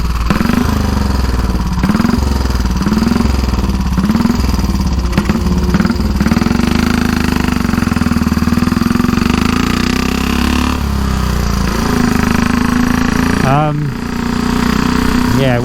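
A 1934 Velocette KTT motorcycle engine runs loud and close throughout, its throbbing exhaust rising and falling with revs as it is ridden.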